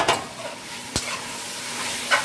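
Pork stomach simmers in a pot for dinuguan, giving a faint, steady bubbling hiss punctuated by a few sharp utensil clinks against the pot.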